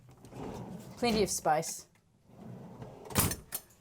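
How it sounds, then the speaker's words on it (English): Fridge drawers on a Dufour 460 yacht slide open and shut in a few quick rumbling strokes with a soft thud, while someone talks nearby. "Fridge drawers. Two generous sized drawers here."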